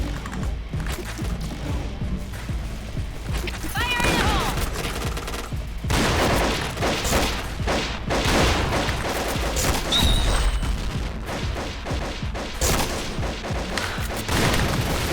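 Shotgun gunfire in the online shooter game Point Blank, heard as dense, loud volleys of blasts and crashing impacts that overlap almost without pause throughout.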